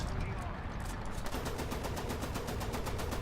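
Four autocannons firing in War Thunder, a continuous rapid string of loud, evenly spaced shots throughout, quickening into a steady rhythmic stream.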